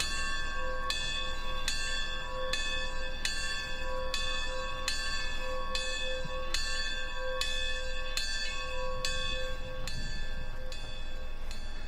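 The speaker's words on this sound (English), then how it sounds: "we will be ringing the victory bell 32 times" A campus victory bell tolls in steady, evenly spaced strikes. Each clang rings bright and sustained into the next, loud and alone over faint outdoor ambience.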